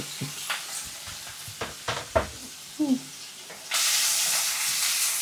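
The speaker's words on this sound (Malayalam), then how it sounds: "സവാള വറക്കുന്നേ" Onions fry in hot coconut oil in a pan, a soft sizzle with a few stirring scrapes. Partway through, a loud, steady hiss takes over and continues to the end.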